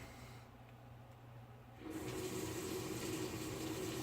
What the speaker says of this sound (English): If I turn the water on,